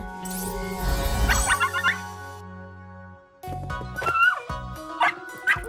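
Two small puppies bark and yip in short high bursts, with whimpering cries between, set against a soft jingle and musical background.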